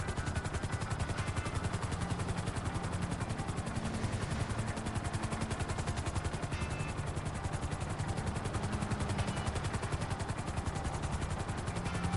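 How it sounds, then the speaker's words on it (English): Helicopter in GTA 5 Online during a Cayo Perico heist, a steady, loud rotor drone with rapid chopping pulses running continuously throughout, with no talk over it. "yeah, I don't like this helicopter."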